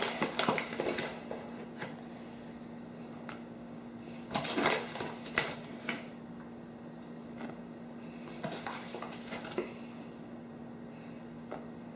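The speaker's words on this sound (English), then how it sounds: "I'm going to take a spoon, and I'm going to spoon out 450 grams into this separate bowl" Metal spoon scraping and clinking against a bowl while a soul-cake ingredient is scooped out, in a few separate bursts of clatter with quiet gaps between, close by and fairly soft.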